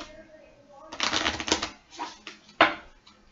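Close shuffling of game cards for the board game Warmonger: a dense burst of riffling papery clicks, then a few shorter snaps and one sharp slap, with brief quiet between.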